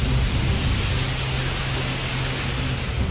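Torrential monsoon downpour over the Nainital hill station, a dense, steady roar of heavy rain and rushing water that holds loud and unbroken throughout with no voices.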